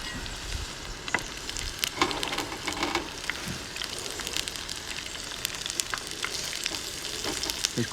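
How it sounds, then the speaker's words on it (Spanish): Rice batter fritter frying in very hot oil while the oil is spooned over it, giving a steady close crackling sizzle with sharp pops and spits throughout, no voices. "Simplemente meneamos así para que el aceite le vaya por encima."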